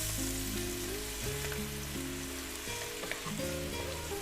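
Green chillies fry in hot oil with turmeric, a quiet, steady sizzling hiss with occasional soft stirring scrapes and clinks, no speech.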